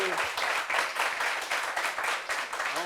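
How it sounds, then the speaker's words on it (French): People at a meeting applauding, a fairly faint round of rhythmic clapping that pulses steadily for a few seconds with some voices underneath. "On peut applaudir pour ça au moins"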